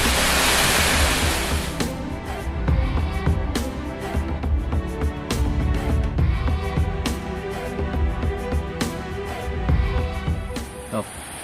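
Rushing waterfall beside a riverside campsite in the Indonesian forest, a broad steady roar of falling water heard close and loud throughout, with someone talking intermittently over it.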